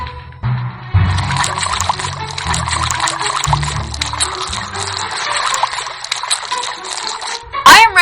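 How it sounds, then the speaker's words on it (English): A liquid ingredient is poured into a drink during a Big Brother 19 house competition. A steady splashing pour runs for several seconds over a busy broadcast background, ending in a sharp sweeping sound. "Now it's time to pour your ingredient into your drink."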